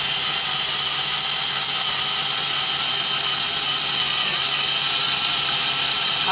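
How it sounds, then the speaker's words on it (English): An 18-volt cordless drill bores into a wall's top plate of two flat-laid 2x4s, a loud, steady high whine with no pauses, close up and alone without any talking. "It's an 18-volt drill, so I better get two hands on it."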